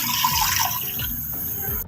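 Water pouring steadily into a pot of fried dal and rice for spinach palak khichdi, a close, continuous splashing gush that fades and thins toward the end.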